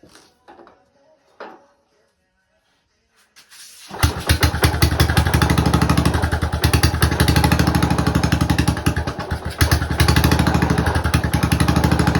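A Panzer T758es engine is heard after a few faint clicks: it fires at about four seconds and keeps running loud and close with a fast, steady, rattling chug until the end.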